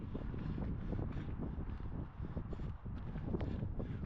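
Breezy, cold wind buffeting the microphone on a cloudy coastal hiking path in Cornwall, a continuous low rumbling roar that is steady and close, with no speech.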